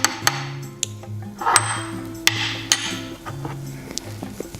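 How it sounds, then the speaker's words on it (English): A spoon stirring homemade nut milk with a pinch of salt, giving a run of metallic clinks and taps against the container over soft scraping, close and moderately loud with no talking. "I'm just going to stir it up."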